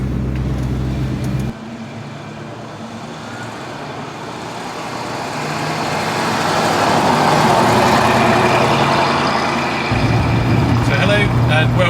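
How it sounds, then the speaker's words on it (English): A 1966 Ford Mustang GT with its 289 cubic inch V8 drives along, a loud steady engine drone that deepens and swells toward the end, with an abrupt shift in engine note near the start and again late on. "today I'm driving a 1966 Ford Mustang GT. So it has the 289 cubic inch motor"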